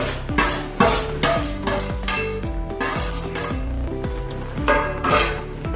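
A spoon stirring roasted semolina into boiling water in a pan, with repeated scraping strokes and metallic clinks against the pan in a steady rhythm, close and fairly loud, no talking.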